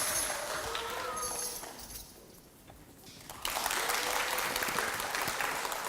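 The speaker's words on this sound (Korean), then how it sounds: "큰 박수로 맞이하겠습니다." Applause from an audience at a children's composer showcase recital, moderate and steady, dipping briefly in the middle before swelling louder again.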